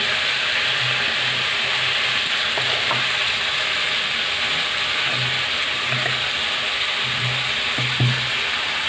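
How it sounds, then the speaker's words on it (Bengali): Brinjal and winter vegetables stir-fry in oil for a katla fish curry, producing a loud, continuous close sizzle broken by repeated soft thuds and scrapes of a spatula turning the pieces. "বেগুনটা দিয়ে ভালো করে নেড়ে সেড়ে একটু ভেজে নেব"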